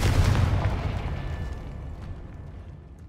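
A Confringo spell blast in Hogwarts Legacy, a single heavy booming explosion that hits at once and then rolls off into a long, fading rumble, loud and close with no voices.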